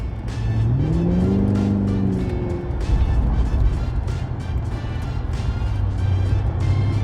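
Supercharged Mercury Marauder, a big-bodied sedan with a stock throttle body, revs hard and holds a gear, its engine note climbing then easing off under a steady loud drone and road noise, no talking.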